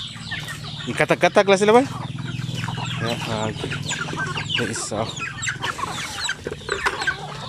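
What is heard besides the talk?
chickens clucking at feeding time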